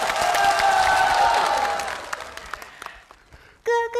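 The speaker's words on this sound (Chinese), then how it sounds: "大爷给你鼓掌。" An audience gives a burst of clapping during a televised comedy sketch. The applause is dense at first, then thins out and fades over a few seconds before a voice cuts in.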